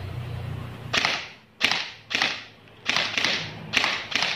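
An E&C EC-633 airsoft rifle with a suppressor fires semi-automatic, seven sharp, muffled snaps at uneven intervals, close and fairly quiet, with no talking.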